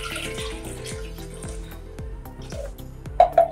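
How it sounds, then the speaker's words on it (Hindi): Water being poured into a pot of potatoes with asafoetida and turmeric, sounding as a steady running pour with faint repeated clinks, then a couple of louder splashy bursts near the end. "अब इसमें हम पानी ऐड करेंगे"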